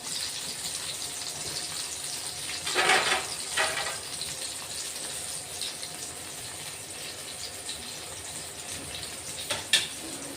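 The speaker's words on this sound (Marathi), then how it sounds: "सर्व मिरची आपण आता तळून घेणार आहेत" Green chillies frying in a pan give a steady, loud sizzle that hisses on continuously, with a few brief louder spits and surges partway through.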